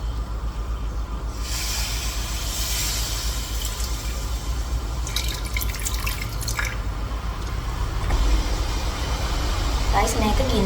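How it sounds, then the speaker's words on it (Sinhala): Water, 150 ml, is poured onto 150 g of sugar in a pan to make syrup for caramel pudding, giving a steady liquid pour and splashing that continues while a voice talks close by. "අපි දැන් මේකට දා ගන්නවා වතුර මිලිලීටර් 150ක්."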